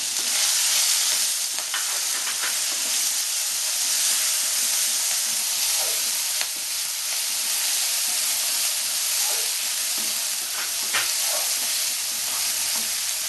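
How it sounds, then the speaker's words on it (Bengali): Ginger paste and green chili dropped into panch phoron spices already crackling in hot oil, giving a loud, steady sizzle and hiss with occasional stirring scrapes for the whole stretch, no voices. "পাঁচফোড়নটা ফুটে গেছে আমি আদা বাটাটা দিয়ে দেব লঙ্কাটাও দিয়ে দিলাম"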